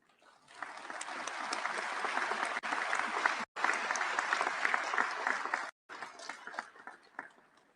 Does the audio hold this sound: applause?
yes